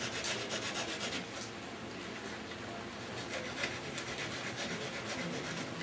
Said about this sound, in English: Now I'm going to bend it like this, and I'm going to sand this down.